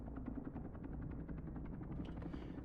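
A helicopter engine runs in a flight simulation game, a faint, steady rotor chop with a rhythmic beating pulse and low engine drone.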